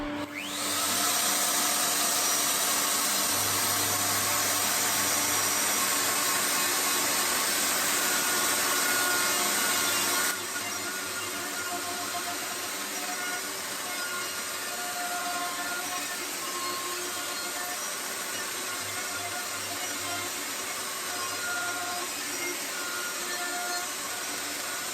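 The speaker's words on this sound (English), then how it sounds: "we'll use the straight bit in the big router just to hog out the bulk of the waste" A large router fitted with a straight bit hogs out waste from wood, a loud, continuous, dusty grinding roar throughout that drops in level partway through as the cut changes.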